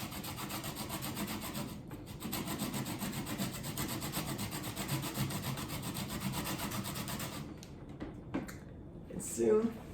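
A lemon is zested on a metal grater, with continuous rhythmic scraping strokes close by for about eight seconds before stopping, followed by a brief knock.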